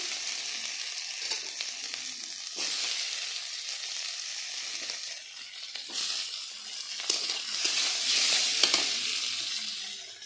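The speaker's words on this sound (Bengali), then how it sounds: "তারপর দিয়ে দিব আমি টমেটো কুচি।" Chopped tomato sizzling in hot oil in a frying pan along with chili, a steady close crackling fry that swells louder toward the end, with occasional faint stirring ticks.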